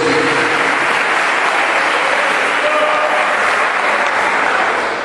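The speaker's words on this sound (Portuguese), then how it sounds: "Dê uma salva de palmas para esse que é o Senhor dos Senhores." Loud, sustained applause from a church congregation at a prayer circle anniversary service, steady dense clapping filling the whole stretch without pause.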